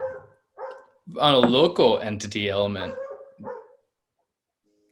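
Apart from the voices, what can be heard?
dog barking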